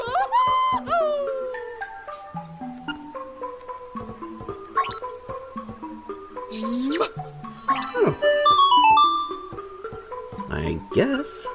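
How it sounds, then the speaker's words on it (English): Chirpy video-game barking from the ball-and-chain dog in Zelda Link's Awakening on Switch, short yips scattered over bouncy melodic game music and jingly effects, steady and moderately loud throughout. "let's go take this barking ball and chain back to Madame Meow Meow"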